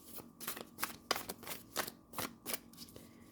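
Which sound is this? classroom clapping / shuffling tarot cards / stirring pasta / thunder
shuffling tarot cards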